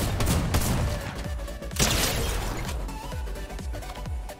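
Gunfire in the video game Fortnite, a steady stream of sharp shots and bursts crackling through a busy battle mix, loud and continuous with no talking.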